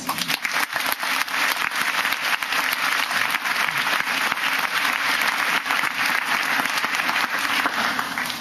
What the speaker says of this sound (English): so for that you all deserve a round of applause